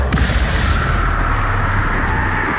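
A Bombarda blasting spell explodes in Hogwarts Legacy, a loud, close boom with a sharp onset that rolls into a dense, sustained rumble.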